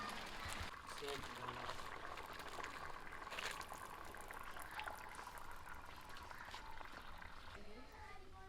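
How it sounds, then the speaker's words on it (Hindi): Water with homemade village-style sewiya noodles boils steadily in a pot, making a constant bubbling, hissing roar with a voice talking faintly underneath. "कितना अच्छा से उबाल आ गया, इसके अंदर बॉयल होना शुरू हो रही है"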